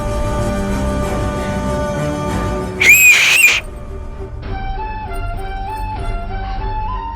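A short, loud, shrill whistle blast cuts through a steady background hum, lasting under a second before fading into lower tones.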